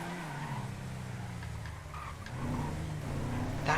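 A car engine in GTA FiveM drones steadily with low harmonic hum and rising pitch, some tire scrubbing and a brief louder burst near the end.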